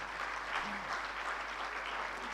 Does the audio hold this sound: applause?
yes